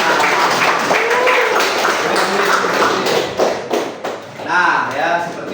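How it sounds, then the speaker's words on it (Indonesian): A class of fifth-grade children at an Indonesian primary school claps hands together, a dense, fast patter of applause running throughout, with children's voices chattering over it. "Oh iya, tepuk tangan."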